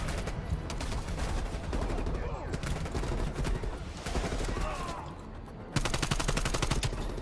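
Rapid bursts of AK-74U automatic gunfire in Call of Duty Black Ops, dense and loud with a heavier volley near the end, mixed with other game sounds and faint talk.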